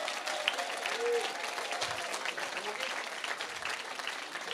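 A church congregation applauds in steady, sustained clapping that fills the room, with voices underneath the applause throughout.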